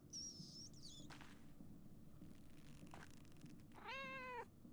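A cat meows in the video game Pentiment, a short high mewing call at the start and a louder, longer wavering meow near the end, over a quiet ambient background with no talking.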